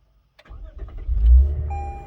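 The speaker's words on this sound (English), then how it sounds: "This is what you're introduced to when the Lexus starts." A Lexus performance sedan engine starts: a brief starter whir and click, then the engine catches with a low, full rumble that peaks and settles into a steady idle, close and loud with no talking.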